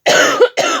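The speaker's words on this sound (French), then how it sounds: "à force de dire des bêtises, ça me fait tousser" A woman gives two harsh coughs, one long and a short one, loud and close with no talk around them.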